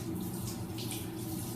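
Water runs steadily from a sink tap as something is rinsed, a continuous close splashing hiss throughout.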